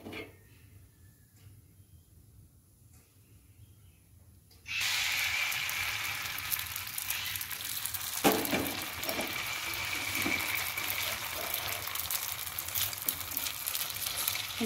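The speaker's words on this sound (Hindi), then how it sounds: "इसमें तवा बैठा दिए हैं, तेल दिए हैं सरसों का तेल" Bottle gourd peels frying in mustard oil on a tawa. After a quiet start, a steady, loud sizzle suddenly fills the scene and keeps going without a break.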